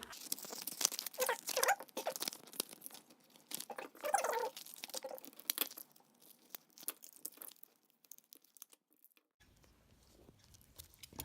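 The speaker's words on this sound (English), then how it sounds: "we did need our knife in the end to remove our battery from the man-proof packaging on there" Duracell 2025 coin-cell blister packaging being cut and pried open with a knife, close crinkling, tearing plastic and sharp crackles in busy bursts that thin out toward the end, with no talking.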